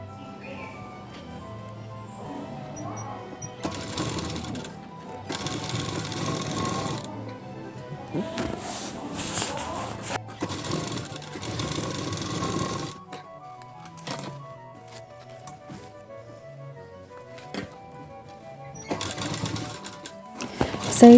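A sewing machine stitching quarter-inch tucks on a plain blouse runs in several whirring bursts separated by pauses, close and steady, with occasional clicks and faint background talk.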